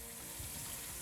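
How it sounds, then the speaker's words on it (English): Spice paste with bouillon paste frying in a pot for vegetable rice, a steady, faint hiss of sizzling throughout. "You fry it with your épice, okay?"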